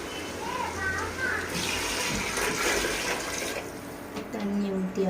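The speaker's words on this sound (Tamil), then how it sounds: "தண்ணி ஊற்றியாச்சு" Water pours steadily into a vessel with a continuous splashing rush, close by, while voices talk over it during a casual home cooking session.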